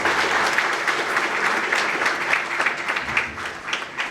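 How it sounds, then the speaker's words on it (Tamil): Students and guests at a motivational talk in Chennai give Jothiraj sir a hearty round of applause, a sustained, even wash of many hands clapping at moderate loudness, with no voices over it. "ஒரு பலத்த கைத்தட்டல்"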